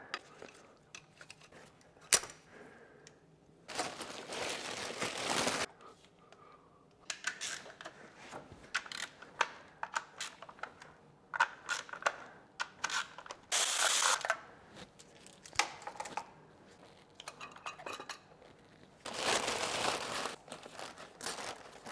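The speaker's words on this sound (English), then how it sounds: "Yes, I will put these hoses in a bag." Rubber hoses from a BMW E92 being stuffed into a plastic bag, bursts of loud crinkling and rustling separated by quieter handling noises and pauses, close up.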